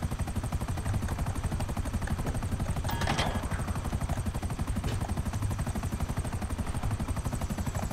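A helicopter in GTA 5 Online thumps with rapid, even rotor beats and a steady engine whine, loud and close throughout, with a brief burst of gunfire partway through and no talking.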